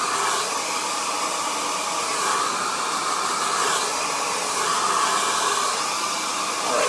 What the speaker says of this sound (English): Going back to our blow dryer.